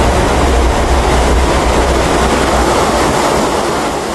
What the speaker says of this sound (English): The powerful mass churns downstream, destroying anything and anyone unlucky enough to be caught in their path.